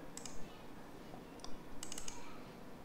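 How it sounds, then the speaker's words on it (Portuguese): Several quick computer mouse clicks, in small clusters of two to four, are heard close by but faint over a soft background hiss. "clico com o botão direito do mouse"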